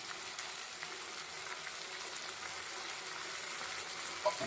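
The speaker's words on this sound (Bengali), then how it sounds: "সব কিছু দিয়ে ভালো করে কষাবো" Chicken liver frying with garlic paste and spices in a pan, a steady soft sizzle running throughout, fairly quiet and close, with a small clink near the end.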